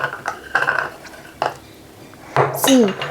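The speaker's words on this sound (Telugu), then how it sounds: "జస్ట్ మనం మిక్స్ చేసుకుందాం. ఇందులో చాక్లెట్ మిక్స్ చేసుకుందాం." Spoon clinking and scraping in a bowl while chocolate is mixed with dry fruits for homemade multi dry fruit chocolates, a few close metallic taps and scrapes at irregular intervals, with brief speech.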